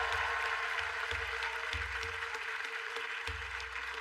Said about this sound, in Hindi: क्या तालियां बनती है